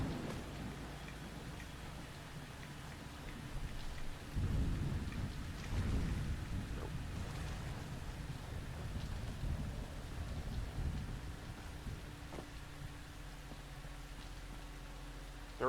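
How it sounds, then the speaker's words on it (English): A permanent radiation storm in the game Fallout London: rolling thunder rumbles through steady, hissing rainfall, with a louder crack near the middle, loud and continuous throughout. "there is definitely an area in this game that's like the Glowing Sea that has a rad storm permanently"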